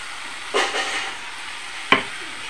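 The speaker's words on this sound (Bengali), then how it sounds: "দেখো ভালোভাবে মশলার সাথে মিশিয়ে নিয়েছি" Chicken leg pieces being stirred with spices in a pan for chicken kosa, two brief scraping strokes over a low steady sizzle, near and moderately loud, no voices.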